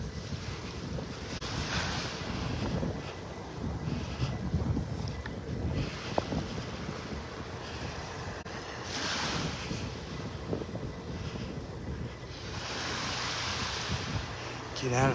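Surf and wind at the south end of Vanderbilt Beach near the Ritz-Carlton in North Naples, Florida: waves wash in repeated swells over steady wind buffeting the microphone, moderately loud and close.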